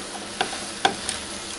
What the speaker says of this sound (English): Once you start hearing them sizzle,